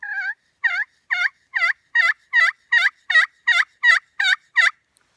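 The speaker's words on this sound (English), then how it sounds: "those little oblong circles are going to give you your best yelp sound" A slate pot turkey call, worked in small oblong circles with a striker, produces a series of about a dozen evenly spaced, crisp yelps, close and clear against silence.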